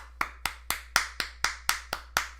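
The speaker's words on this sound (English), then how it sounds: "that was kind of a weak applause" Nine sparse, evenly spaced hand claps from one person, close and fairly soft, with a slow, limp rhythm and no voices.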